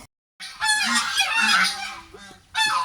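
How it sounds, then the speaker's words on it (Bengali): Domestic geese honking loudly and close, a burst of harsh overlapping calls after a moment of silence, then another honk at the end. "এই হচ্ছে আলিফার রাজহাঁস, এখানেও আছে।"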